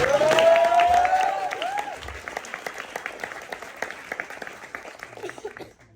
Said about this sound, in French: Applaudissez pour Quentin